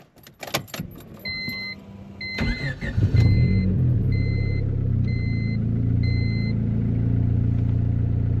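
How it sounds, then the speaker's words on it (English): A turbocharged Honda Civic cranks and fires up after a few clicks and key jingles, then settles into a steady, loud, rumbling idle as it warms up. "let's get this thing fired up so we can start getting heat in it while we flash our new file"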